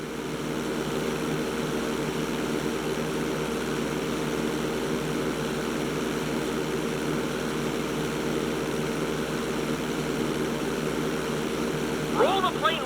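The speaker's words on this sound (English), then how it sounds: "Okay, roll the plane upside down." Propeller airplane in GTA 5 flying upside down, a steady droning engine hum holding at constant loudness throughout, with a voice speaking briefly near the end.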